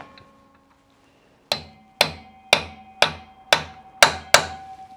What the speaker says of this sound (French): ce que je vais faire, c'est mater l'écrou